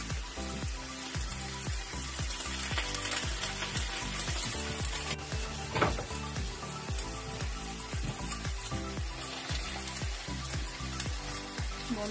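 Nopales cactus paddles sizzle on a hot griddle with a steady crackle and a rapid, even ticking pattern, moderately quiet and close, one brief louder knock midway, no voices.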